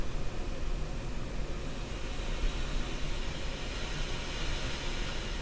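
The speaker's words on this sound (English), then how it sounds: "that white noise coming out of an FM receiver" Steady white noise hisses from an FM receiver through Electrohome Acoustech speakers, models E00411 and E00412, a dense, unbroken wash across the whole range, constant in level throughout.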